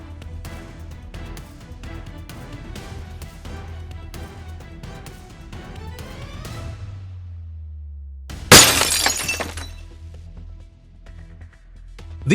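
Thieves swing hammers into jewelry store display glass, a sudden loud shattering crash that bursts in after a stretch of background music and then trails off into scattered clatter.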